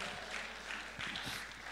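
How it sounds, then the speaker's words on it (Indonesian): Church congregation claps briefly during a sermon, a short burst of steady, moderately loud applause lasting under two seconds. "beri tepuk tangan dulu."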